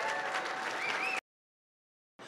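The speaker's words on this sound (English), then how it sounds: "Please give them a round of applause." Crowd applause for showgirls in original Jubilee costumes at a Las Vegas Strip resort's grand opening, dense clapping that cuts off abruptly to silence, then briefly returns.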